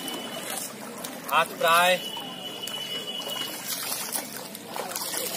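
Water trickles and splashes as someone bathes in a village pond, with someone talking over it in short bursts.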